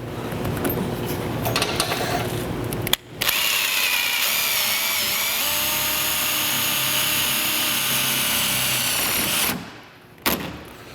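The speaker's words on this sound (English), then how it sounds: "And then I'm going to go ahead and install one of these screws." A power drill drives a screw to fit a Gatorback mud flap, a loud, continuous whirring whine lasting several seconds with a short pause and a final brief burst near the end.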